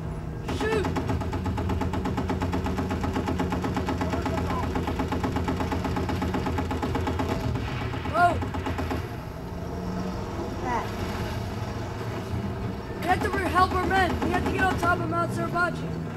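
Gunfire and vehicle engine noise in the World War II shooter Battlefield 1943, a dense steady roar with bursts of shots near the end, under excited voices calling out.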